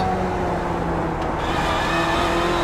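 A BMW sportscar in iRacing roars along at speed on Sebring International Raceway, a dense, steady engine drone close and loud with a faint rising pitch, no voices.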